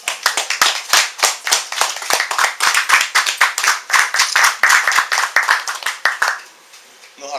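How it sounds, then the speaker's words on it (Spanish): People at a book presentation in a bookshop clap for the poet Carlos Velázquez Cruz: sharp, distinct claps from a modest group in a quick, uneven patter that fades out near the end. "Den un aplauso"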